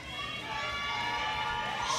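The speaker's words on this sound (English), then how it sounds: "And you might hear from the crowd noise, we have an Australian on the platform." Crowd of Australian fans cheering at the World Bench Press Championships, a continuous, dense roar of voices and shouts that holds loud throughout and swells slightly at the end.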